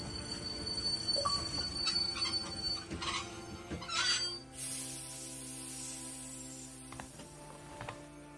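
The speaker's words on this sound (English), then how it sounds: "Stop the train, man." Train rumble and rail clatter from The Walking Dead video game, a steady low mechanical drone with a few metallic hits and squeals, shifting midway into a hissing, airy wash as the train keeps running.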